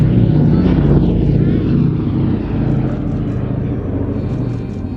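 A propeller aircraft at the Midlands Airshow flies past, emulating a bomber limping back with two engines smoking, a loud continuous engine drone that slowly fades as it passes, with a voice faintly underneath.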